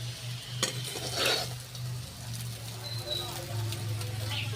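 Chow mein noodles are tossed with homemade vegetables in a village-style pan, with soft stirring scrapes and a light sizzle under a low background hum; a voice speaks in the background.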